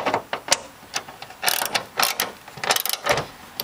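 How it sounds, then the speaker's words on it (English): A wrench tightening the bracket of a 4x4 hood lifter kit, giving a quick run of crisp ratcheting clicks in short bursts, close by. "Take your wrench."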